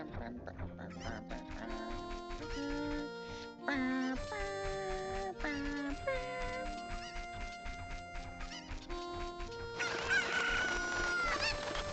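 Chickens cluck and crow in a 1998 video game, with sharp, pitched squawks and bleating calls repeating over a busy game soundtrack, fairly faint and layered with other effects.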